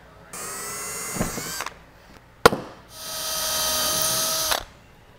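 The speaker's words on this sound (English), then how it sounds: "we'll go ahead and drill some holes for those" A power drill bores holes for the brackets of a strutless drag wing on a Camaro, with two whining bursts split by a sharp knock, spinning up and stopping nearby.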